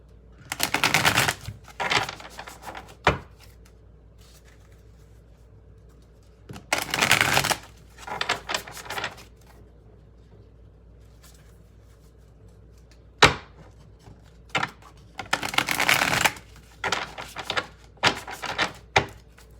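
Oracle affirmation cards are shuffled by hand in several separate bursts of crisp riffling and snapping, each lasting a second or two, with quiet pauses and a few sharp taps between them.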